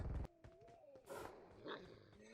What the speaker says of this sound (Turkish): Lan köpek geldi. Köpek de var mıydı?